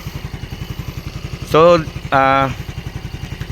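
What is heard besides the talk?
Yamaha Mio Fazzio 125cc scooter engine running quietly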